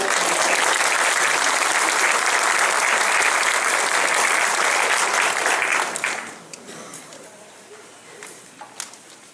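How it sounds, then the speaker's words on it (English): An audience at a Christmas event gives a loud, dense round of applause that holds steady for about six seconds, then drops away into a few scattered, fading claps. "Round of applause for everyone."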